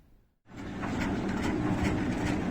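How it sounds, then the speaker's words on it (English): A small, noisy service train rolls past at Bishkek train station, starting abruptly after a brief quiet and then a steady, close, loud rumble with rattling wheel clatter through the rest. "Some sort of service train."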